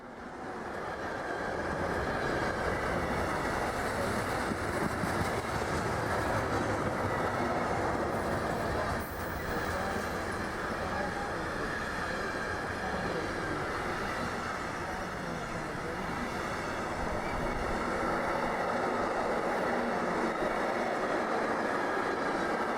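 A lightly loaded Trento-bound freight train with road vehicle traffic rolls past on the Brenner Railway in winter, a loud sustained rumble and wheel clatter filling the whole stretch, steady from start to finish with a brief dip midway.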